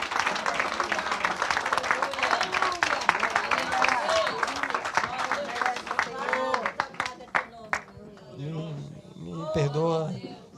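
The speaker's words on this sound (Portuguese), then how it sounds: "uma salva de palmas para o Senhor" A church congregation breaks into applause for the Lord, loud dense clapping and cheering for about six seconds that thins into scattered claps, with an excited preacher's voice speaking over and after it.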